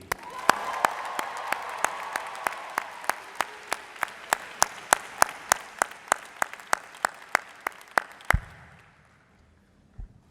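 A crowd at a university convocation applauds, with sharp claps falling into a steady rhythm over general clapping and cheering, then fading away near the end.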